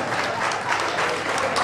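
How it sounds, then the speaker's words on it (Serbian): Big audience applause for a folk singer performing at an ethno village venue, dense and loud clapping filling the moment. "ja vas molim za jedan veliki aplauz"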